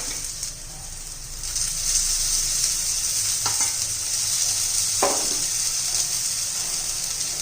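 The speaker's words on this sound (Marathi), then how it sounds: "क्रिस्पी होईपर्यंत हे करून घेऊ चालू फ्राय करून घेऊया त्याच्या साईडने तेल सोडायचे" Raw banana cutlets shallow fry in oil in a pan, giving a steady close hiss and sizzle throughout, with a few faint clinks of a utensil and no talking.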